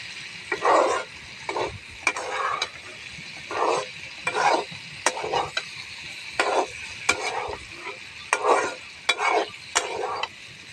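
Taro stolons, shrimp, tomato and green chili are stirred in a frying pan, with repeated scraping strokes in an irregular rhythm over a steady light sizzle, close and moderately loud.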